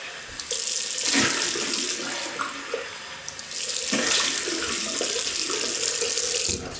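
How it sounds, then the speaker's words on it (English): Water runs from a tap to rinse soap off hands in a sink, a steady splashing that rises and falls as the hands move in and out of the stream. "Right, rinse off, Paul."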